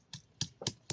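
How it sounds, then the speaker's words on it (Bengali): Ginger is crushed on a flat grinding stone with a stone roller: four evenly spaced, faint, dull knocks with gritty scrapes, close by and with no voices, repeating about every quarter second. "আদাটা বেটে নেব।"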